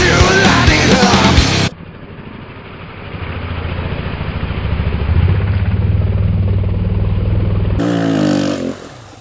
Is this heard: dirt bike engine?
yes